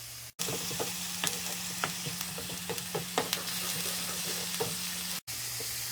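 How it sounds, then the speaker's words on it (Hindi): Whole spices, a cinnamon stick, bay leaves, cloves, black peppercorns and black cardamom, fry in hot oil for an egg korma, with a steady close sizzle and scattered crackles and stirring clinks throughout, no voices. "अब हम इसमें 1 स्टिक दालचीनी, 2 तेजपात, 2 अदद लौंग, 8 से 10 काली मिर्च, 1 अदद मोटी इलायची, ये भी हम साथ ही फ्राई कर लेंगे।"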